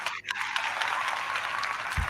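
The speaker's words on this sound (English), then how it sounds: "Big round of Mhm." An audience at a late-night comedy show breaks into sustained applause, a dense steady wash of clapping that fills the clip after a brief dip at the start.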